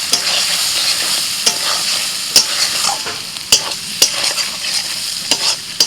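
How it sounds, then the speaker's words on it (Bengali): Ground spices, ginger and green chili frying with vegetables in a pan, a loud continuous sizzle broken by repeated sharp knocks and scrapes of a spoon stirring, with no one talking. "সবজির সাথে আদা কাঁচা লঙ্কাটা একটু ভেজে নিই"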